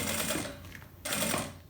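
A sewing machine stitches a thick plastic toiletry bag in two rapid, continuous runs of mechanical chatter separated by a brief dip, heard up close.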